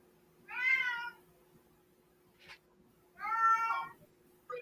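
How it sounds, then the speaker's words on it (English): A cat meows twice, each one a long, clear, drawn-out cry about two seconds apart, close and loud against a quiet background with a faint steady hum. "I hear a cat."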